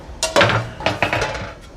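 Cauliflower pieces are set onto metal baking sheets, giving a few sharp metallic clanks and rattles in quick succession, close and fairly loud, with no talking.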